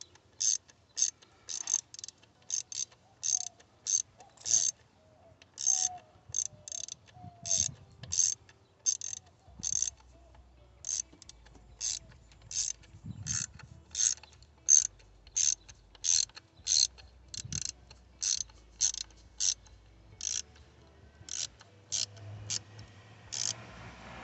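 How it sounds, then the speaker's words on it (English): Rapid ratchet clicks from tightening the throttle position sensor bolt on a Cadillac Escalade, repeated in short bursts of several clicks with brief pauses, close and crisp. "now that we got the bottom, I'm gonna tighten it all the way"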